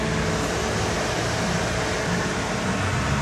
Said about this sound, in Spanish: Como podrán escuchar, se activó el ventilador porque tengo el puente que he puesto manualmente.